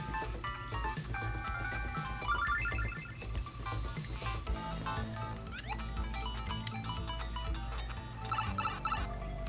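Chirpy electronic Pokémon game bleeps and melodies play through a Game Boy Color's small replacement speaker, busy and tinny over a constant low hum.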